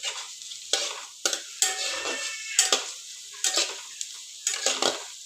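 Onion and green chillies fry in hot oil in a pan for dry methi bhaaji, a close sizzling hiss cut by sharp, regular scraping strokes of a spoon against the pan, with no talk.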